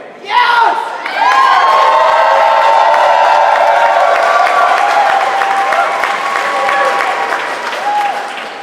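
A large crowd at a transgender rights rally in a rotunda bursts into loud, sustained cheering, whooping and applause that fills the hall for several seconds before slowly easing.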